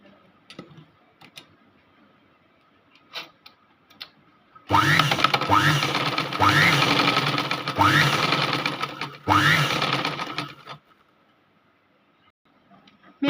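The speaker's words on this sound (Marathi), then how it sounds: "आता एक कच्ची शिलाई मारून घेऊया आणि एक्स्ट्रा फॅब्रिक कट करून घेऊया" A sewing machine runs a long loose baste stitch along blouse fabric in several loud, steady bursts separated by short pauses, with quiet handling noises before and after.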